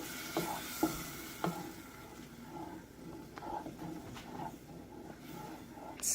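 Tomato puree is stirred in a hot, sizzling pan, with a soft continuous frying hiss and several quiet scrapes and taps of the spoon against the pan, close and fairly faint.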